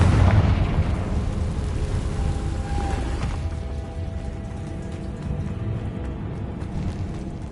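Confringo blasting spell in Hogwarts Legacy, a booming explosion that opens loud and then decays into a long crackling, rain-like rumble of debris.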